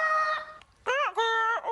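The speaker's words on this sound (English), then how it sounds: "Wonder what kind of sound a Humpty bird would make." A cartoon bird gives a rooster-like crowing call, with two or three rising and falling tonal bursts. The call is loud and close, and no other sound is heard.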